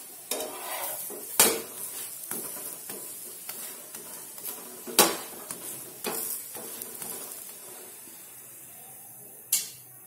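Methi paratha fries in oil on a pan with a low, steady sizzle. Several sharp metallic clatters and scrapes from a spatula or utensil break in at irregular moments.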